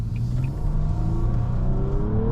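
A 2023 Nissan Maxima SR at full throttle, its engine revving hard and climbing steadily in pitch as it accelerates, loud and close with no voices.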